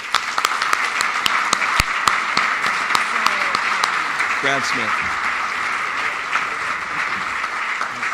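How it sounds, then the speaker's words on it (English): Audience applause at an awards ceremony for innovations in networking, steady dense clapping throughout with a few sharp nearby claps standing out and a brief spoken name over it. "Big round of applause."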